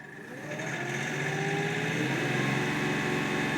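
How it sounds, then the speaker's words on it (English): Kioti NX6010 tractor with a small three-cylinder Tier 4 engine idling at a slightly high idle, a steady, fairly quiet drone that rises a little at the start and then holds even. "I'm idling. It's a little 3-cylinder, so its idle is a little higher,"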